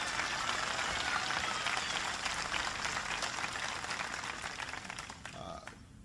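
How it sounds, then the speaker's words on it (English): Moderately faint, dense applause from an audience at a political speech, a steady wash of clapping that slowly thins and fades toward the end. "Please give him a big round of applause."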